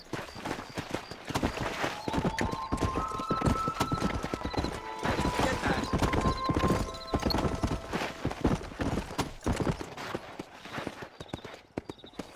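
Horse galloping in the video game Red Dead Redemption, rapid continuous hoofbeats with a whinny, loud and close, while characters talk over the ride.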